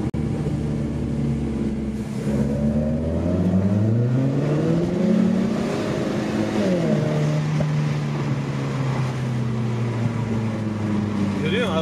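A Renault Clio 4 RS engine pulls hard under acceleration, its rising harmonic whine climbing and shifting through gears with wind and road noise, loud and close from inside the car while occupants talk.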